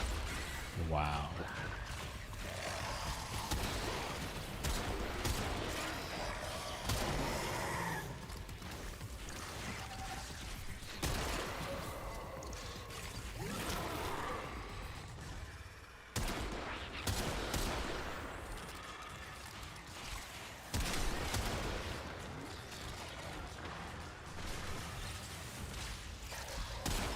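Rapid bursts of video game gunfire crackle loudly and almost continuously, with dense volleys and booming thuds during play while a player's voice occasionally talks over the shooting.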